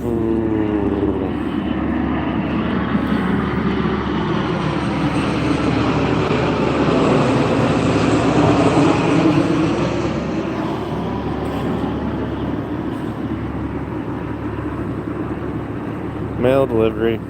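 An Alaska Airlines jet airplane flies past near Petersburg, Alaska, its engine roar swelling over several seconds and then fading, with people talking faintly beneath it.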